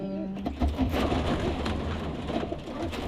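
Pigeons coo softly in low, throaty calls amid steady background rustle and ambient noise, fairly faint and not far off.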